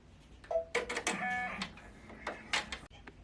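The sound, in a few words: machine stitching fabric down on notebook cover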